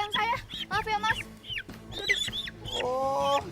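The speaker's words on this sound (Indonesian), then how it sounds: "ini ayam saya mas, saya mau ambil ayam saya" Chickens cluck and squawk in a rapid, irregular run of loud, close calls, some drawn out, with a voice mixed in among them.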